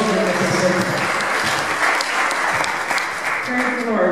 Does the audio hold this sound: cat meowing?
no